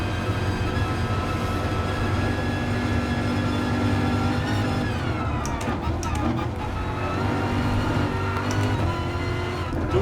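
A Corvette race car in the Gran Turismo Sport racing game roars continuously through gear changes, a loud sustained engine drone with rising and falling pitch, while a person talks over it.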